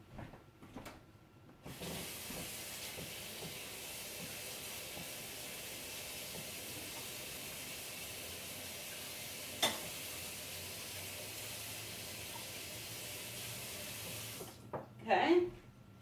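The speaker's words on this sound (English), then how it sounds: "You just have to rinse this quick" Water runs steadily from a tap over a utensil being rinsed of pumpkin pie goat's milk soap batter. The rush starts abruptly, holds evenly for about thirteen seconds with one clink partway through, then cuts off before a few handling knocks.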